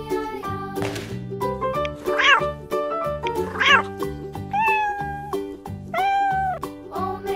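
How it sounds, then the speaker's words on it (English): Several distinct cat meows, some rising and drawn out, sound over continuous music with tonal notes; no one speaks. "Cat."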